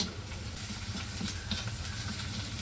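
Green chillies sizzle in a pan of wilted onions, a continuous soft frying crackle and hiss with faint stirring, heard up close and alone.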